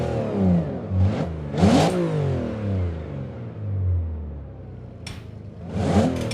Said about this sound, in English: only a 2-litre Z-Tech engine with incredible amounts of boost